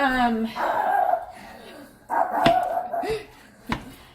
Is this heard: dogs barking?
yes